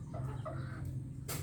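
Several chickens cluck in short, soft bursts over a steady low hum, with one sharper squawk near the end and no voices.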